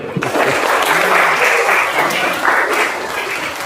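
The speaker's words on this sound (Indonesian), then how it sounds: "Tepuk tangan dulu." Students in a vocational computer-networking classroom break into a burst of dense, steady applause that fills the room, holding at an even level for several seconds before easing slightly at the end.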